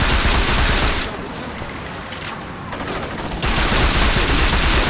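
Dense, continuous automatic gunfire from the video game Saints Row 2, a sustained rattling fusillade that dips briefly in the middle and then returns at full loudness, with no talk over it.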